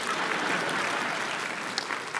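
Audience applause at a lecture by a former network news anchor, a short, moderately quiet patter of clapping from the crowd.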